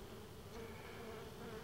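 Honey bees buzz at a hive in a steady, close, continuous drone, fairly soft, with no voices over it.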